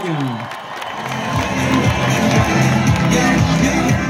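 Crowd at a Vuelta a España stage award ceremony applauds and cheers for Colombian Movistar cyclist Nairo Quintana, loud continuous clapping with whoops and shouted voices rising and sustained, a lively dense roar throughout.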